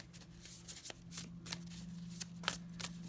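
Tarot cards shuffled by hand in a few quick riffling bursts, soft papery flutters close up over a low steady hum.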